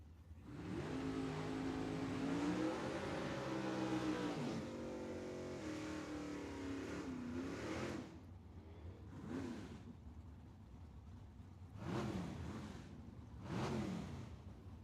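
Drag race cars at Tucson Dragway, a classic Chevelle and a Ranchero, rev their engines in rising and falling surges, then give short sharp blips, close and fairly loud with no talk.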